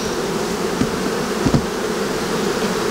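Honey bees swarm around an apiary hive fitted with two honey supers, a dense, continuous buzzing hum close by, with occasional louder passes of individual bees and no talking.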